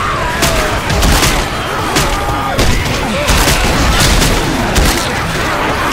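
Gunfire in the video game Left 4 Dead 2: loud, continuous volleys of rapid shots and booming blasts, close and dense, with a clattering chaotic backdrop throughout.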